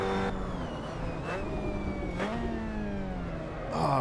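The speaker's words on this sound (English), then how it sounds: "a little over rev of the engine" MX-5 Cup race car in Assetto Corsa at Paul Ricard, engine held high and over-revving in a steady sustained whine with pitch slightly rising, then a brief louder burst at the end; no talk.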